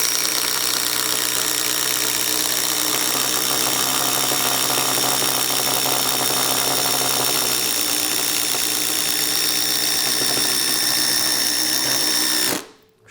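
A Ryobi ONE+ HP drill running on a fully charged 4Ah battery whirs loudly and steadily at high pitch for about twelve seconds, close up, then cuts off abruptly.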